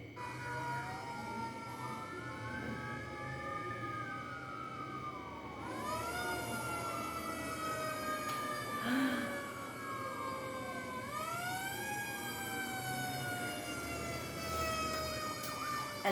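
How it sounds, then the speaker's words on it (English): A fire truck siren wails in sweeping rising and falling tones, growing louder partway through and layered with overlapping siren cycles over distant traffic rumble. "And that sound is a fire truck."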